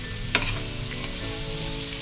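Shredded cabbage stir-fries in a hot pan, giving a steady, close sizzle and crackle broken by occasional sharp scrapes and clicks of the utensil tossing it.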